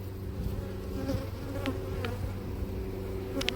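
Dark Caucasian honey bees buzz in a dense, steady drone at an apiary, with a few individual bees passing close by now and then.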